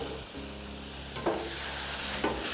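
Sauerkraut and meat crackle on a Blackstone griddle in a loud, steady sizzle, with two brief scraping flips partway through and no one talking.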